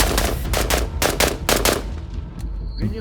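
Rapid bursts of gunfire crack loudly in quick succession, then stop, leaving a brief quieter tail with a faint tone.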